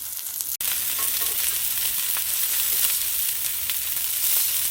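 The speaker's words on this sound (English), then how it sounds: "if you could only smell that sizzle" Morning biscuits sizzle and fry in hot cast iron pans inside a winter camping hot tent, a constant close crackling hiss with no talking.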